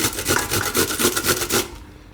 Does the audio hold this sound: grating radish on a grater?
yes